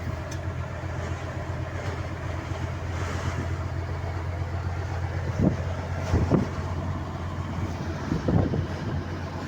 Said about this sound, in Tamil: அப்படி ஒரு காற்று அடிக்குது பாளையவனத்தில்.